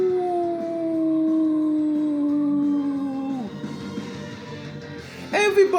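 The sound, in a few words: person imitating a wolf howl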